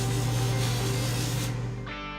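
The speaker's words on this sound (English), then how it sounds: "For the final polish, we use a polishing machine." A jewelry polishing machine's wheels spin at high speed against a white gold ring, making a steady close whirring hum with broad rubbing hiss that winds down at the end.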